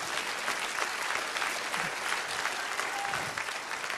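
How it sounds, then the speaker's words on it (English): A church congregation claps hands in praise during a Sunday morning service, a dense, even wash of steady applause from many people that holds at a constant level throughout. "Give the Lord a hand clap of praise."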